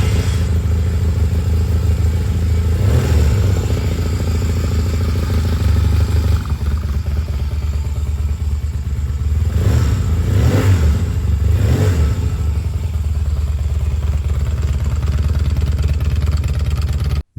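A 1970s-era Yamaha TX650 parallel-twin motorcycle idles steadily up close, its engine rumbling loud and continuous, with several sharp throttle blips pushing the revs up and back down midway through.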